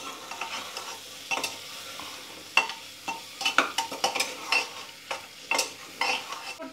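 Beetroot fries in a pan with a faint sizzle beneath frequent close clinks and scrapes of a spoon against metal, stirring in irregular bursts.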